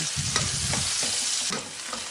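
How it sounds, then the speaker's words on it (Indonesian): Anchovies stir-fried in a large wok, with a steady loud sizzle broken by a few scraping strokes of a spatula, close up and without talk. "Nah, terinya kita masukkan, kita gongsong-gongsong."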